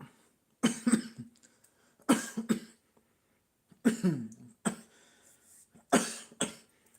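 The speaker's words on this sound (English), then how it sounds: "coughing a little bit more today" A string of raspy coughs comes in four separate bursts with short gaps, close and fairly quiet.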